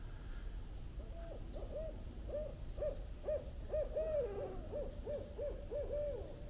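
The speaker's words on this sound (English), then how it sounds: "I found owls in the first half hour." Barred owls hooting in the woods, a series of rhythmic, rising and falling hoots repeating over several seconds at moderate distance, with overlapping calls suggesting more than one bird.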